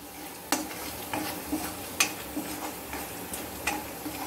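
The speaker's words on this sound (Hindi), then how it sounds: "इन सब को हम हाई फ्लेम पे फ्राई करेंगे।" Spices with kitchen king masala frying on high flame in a kadhai for kadhai paneer, a steady sizzle with regular clinks and scrapes of a spoon stirring, close and alone.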